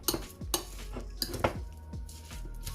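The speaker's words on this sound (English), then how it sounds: "So mix it out now. Crush it and mix it together." Spoon scraping and clinking in a bowl as Jamaican corned beef is crushed and mixed into a creamy sandwich spread, a series of sharp close taps and scrapes at irregular intervals.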